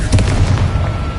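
A Confringo fire spell explodes in the Hogwarts Legacy video game, giving a punchy booming burst with crackling rumble that decays over about a second, loud and with no voice over it.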